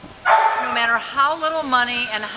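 A dog at a county animal shelter gives a close, high-pitched run of whining yelps and short yips, wavering in pitch for a couple of seconds.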